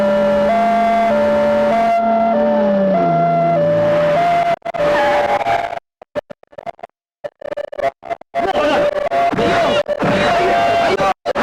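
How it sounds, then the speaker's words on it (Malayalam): An ambulance siren wails in a Malayalam film scene, steady tones that break up midway into scratchy, choppy noise before the wailing resumes loud and close. "ആംബുലൻസ്"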